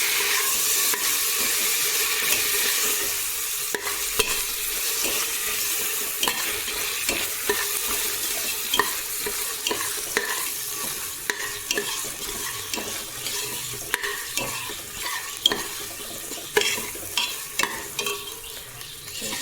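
Ginger garlic paste sautés in a pan for vegetable biryani, a continuous close sizzle broken by frequent sharp stirring scrapes and taps.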